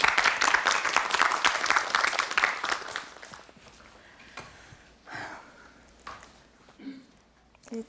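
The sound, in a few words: studio audience applause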